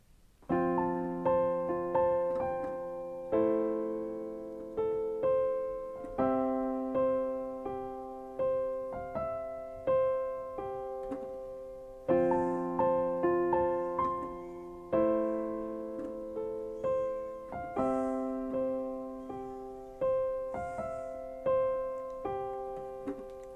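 A piano plays the slow repeating intro pattern of a song, chords and melody notes, each phrase ringing out and decaying, clear and alone.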